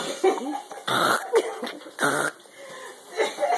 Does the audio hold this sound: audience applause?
no